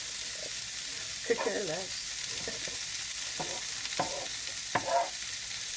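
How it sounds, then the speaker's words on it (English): Cabbage fries on a grill with a soft, steady sizzle and occasional stirring scrapes, quiet in the background while a person speaks briefly. "So just going to cook up this cabbage until, well, just cook it until it looks cooked."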